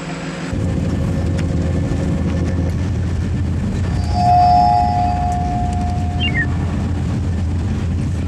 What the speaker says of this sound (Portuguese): Encontrei finalmente a estação de comboios.